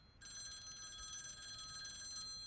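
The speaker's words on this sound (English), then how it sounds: "Somebody get that phone!" A telephone bell rings continuously in a sitcom house scene, a bright, steady electronic trill that starts abruptly and carries on loud and alone, with no voices over it.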